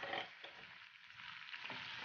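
Onion and tomato fry in oil in a pan, a close, steady crackling sizzle with a soft stir near the start and no talk.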